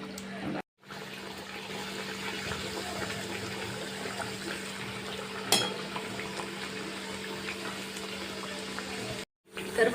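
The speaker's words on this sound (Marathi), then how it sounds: "आणि राहिलेल्या पुऱ्या पण आपण तळून घेऊया." Sweet jaggery puris fry in hot oil with a steady, close bubbling hiss that cuts out briefly near the start and again near the end, with one sharp crackle partway through.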